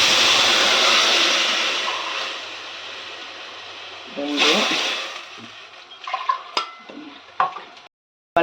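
Measured water pours into a pot for coconut milk rice as a broad, rushing hiss that tapers off. Clinks and knocks of a tumbler against the pot follow, and a voice speaks partway through.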